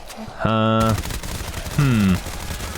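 MP5 submachine gun fire in Black Ops 3 Zombies, heard as two short, loud automatic bursts separated by a brief pause, with a harsh, buzzing rattle.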